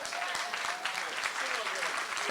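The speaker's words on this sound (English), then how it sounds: "Give that young man a round of applause." A crowd at a Lower Ninth Ward budget town hall in New Orleans claps in continuous, moderately distant applause, with a voice faintly heard under it.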